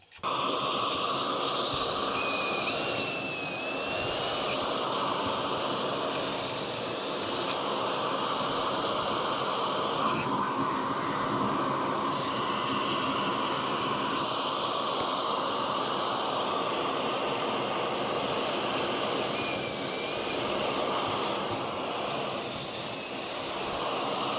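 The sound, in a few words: vacuum cleaner suction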